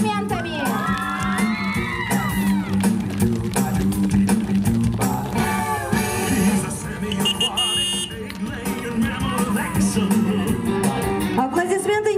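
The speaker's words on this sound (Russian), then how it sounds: "Аплодисменты не смолкают." Applause and cheering from a crowd at a Youth Day 2017 contest for auto-men and auto-ladies, loud and continuous with children shouting, music playing and a host speaking over it.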